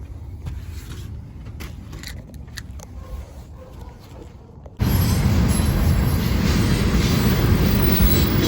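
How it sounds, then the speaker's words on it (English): A train passing at night: a quieter stretch of low rumble gives way abruptly to a loud, steady, broadband roar as the cars go by close, with no talking. "Night train. Can't really see it that well, but you can hear it."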